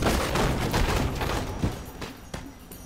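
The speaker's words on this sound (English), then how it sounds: "Taking heavy fire!" Heavy gunfire in the squad combat game Full Spectrum Warrior, a continuous clatter of overlapping shots with a few sharper bangs, loud and close throughout.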